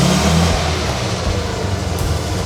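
A Fiat 500 engine (1969 500F or 1970 500L) idling close by, a steady low rumble with a slightly uneven, throbbing rhythm.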